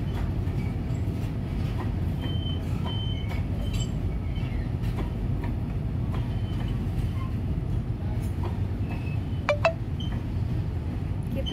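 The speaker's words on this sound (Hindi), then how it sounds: "दोनों ट्रैक से, एक दूसरे ट्रैक से ट्रेनों का आवागमन हो रही है" Trains passing along two parallel railway tracks in India, a steady low rumble of rolling stock throughout with faint higher squeals and clinks of wheels near the end, no voices.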